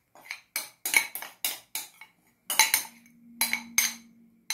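A spoon scrapes and clinks against a dish while spreading hot melted chocolate over a pumpkin slice bake, in a series of short, fairly close strokes with brief pauses, and a low steady hum enters partway through.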